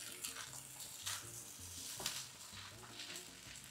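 Mixed vegetables frying in a pan for ham fried rice, a steady crackling sizzle with louder bursts as they are stirred, under soft background music.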